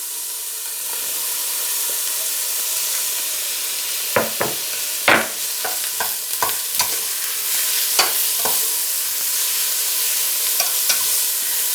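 Sausage and bacon for Polish żurek soup frying in a pan, a steady soft sizzling hiss joined partway by a cluster of sharper crackles and spatters, then settling back to an even fry.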